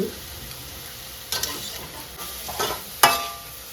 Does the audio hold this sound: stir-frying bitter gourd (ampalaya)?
yes